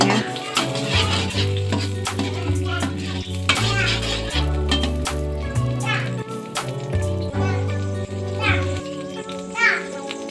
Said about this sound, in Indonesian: kita tumis bumbunya biar matang